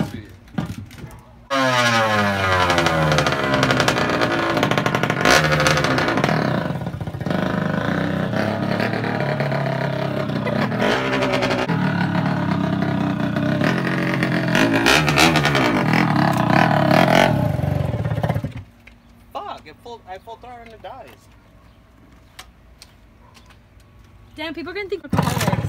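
A car engine revs hard at full throttle for a long stretch with rising and falling pitch, then cuts out and dies, leaving quieter background with voices talking.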